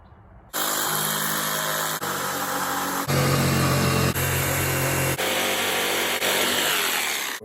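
Power saw with a thin plywood shim under its base cutting door trim to follow the wall's contour, running loud and continuous with slight shifts in pitch as the cut progresses, no talking.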